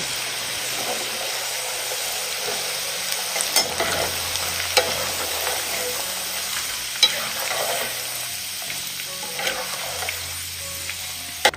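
Onion and tomato frying in hot oil, a steady close sizzle with scraping stirs and occasional light clinks of a utensil against the pan, continuous for the whole stretch without talk.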